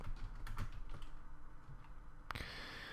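Typing on a computer keyboard: quiet, close key clicks in an irregular cluster, ending with a sharper click, over faint background hum and no voices.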